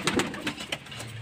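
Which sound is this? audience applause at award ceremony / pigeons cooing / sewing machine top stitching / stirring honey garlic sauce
pigeons cooing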